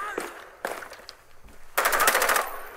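Automatic gunfire in Rainbow Six Siege, a rapid burst of closely spaced loud shots near the end, preceded by scattered fainter impacts and brief game noises.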